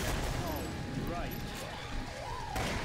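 Gunfire in the zombie shooter Killing Floor, a continuous rough clatter of shots and combat noise running beneath a man's speech and warbling game sounds.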